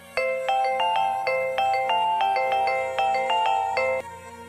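A phone ringtone plays a bright, repeating melodic pattern of chiming notes for about four seconds before cutting off, heard clearly and alone during a call to someone's mother.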